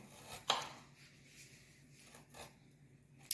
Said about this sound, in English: Cutting onions are actually pretty easy.